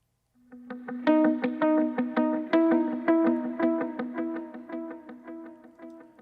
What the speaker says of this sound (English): And here's the track with delay.